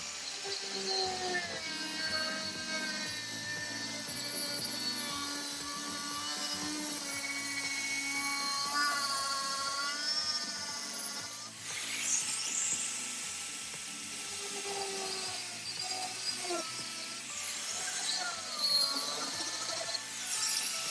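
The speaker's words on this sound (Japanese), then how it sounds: "グラインダーで切断しているのでやりにくいです。" An angle grinder cuts through a plastic universal rear diffuser being fitted to an R56 MINI Cooper S, a steady high whine with wavering pitch as the disc loads and frees up, continuous and close throughout.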